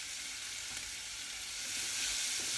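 Onions sautéing in a soup pot with thyme added, giving a steady, dense hiss of frying that swells slightly toward the end, close and continuous with no voices.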